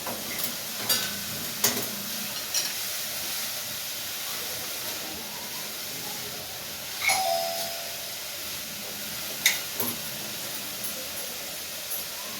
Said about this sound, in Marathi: तर आता बेल वाजली ना